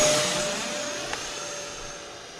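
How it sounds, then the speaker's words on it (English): An E-Flite F-15 Eagle 64mm EDF model jet whines loudly in a high, steady rush that slowly fades as it comes down for a belly landing, with one brief tick midway. "So I'll just go ahead and belly land it right now."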